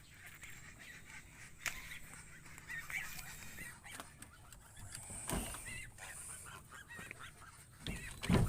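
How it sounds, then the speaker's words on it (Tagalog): Geese honking on a free-range farm, scattered faint calls mixed with other fowl noises and outdoor rustling, fairly distant and quiet with occasional louder bursts. "So, ayan yung aming gansa."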